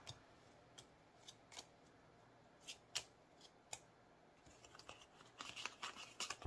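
Paper cash bills being shuffled during cash envelope stuffing: quiet, close, crisp flicks that come sparsely at first, then speed up into rapid riffling, with no talking.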